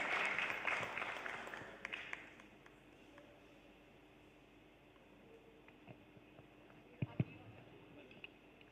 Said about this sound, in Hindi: तालियों के साथ आइए हम करते हैं स्वागत